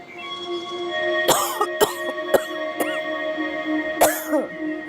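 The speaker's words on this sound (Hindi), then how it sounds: "आपको तो बहुत खांसी हो रही है।" A woman's dry, hacking cough comes in several sharp bursts, three close together and one more a moment later, heard close over a faint steady background tone.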